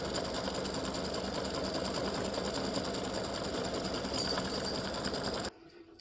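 An embroidery machine stitches a gnome's hat with a steady, loud, continuous mechanical whir that runs unbroken for about five and a half seconds, then stops abruptly, leaving faint room noise.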